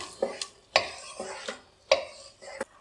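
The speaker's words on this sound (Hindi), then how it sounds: "हाई फ्लेम पे हमने चनों की भुनाई की अच्छे से।" Boiled chickpeas being stirred and roasted over high flame in a pan with softened onions, giving several distinct spoon-against-pan scrapes and knocks spaced about half a second apart, close and fairly quiet, with no talking.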